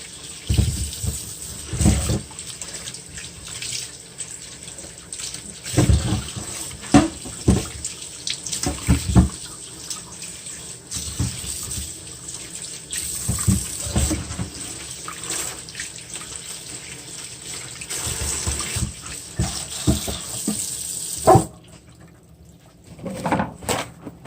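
Tap water runs steadily into a kitchen sink while seafood such as shrimp is rinsed, with splashing that changes as the food is moved about, occasional clunks of a cupboard or dish, and the flow shutting off near the end.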